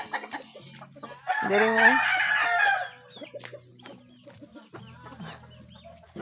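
Chickens clucking close at hand, with a loud drawn-out crowing squawk in the middle and softer clucks around it; a voice speaks briefly.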